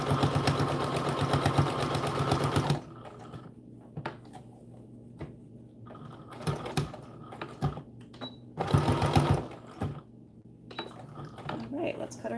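A sewing machine sews an American Girl doll dress in two bursts, a longer one at the start and a shorter one in the middle, with handling clicks and rustles in between.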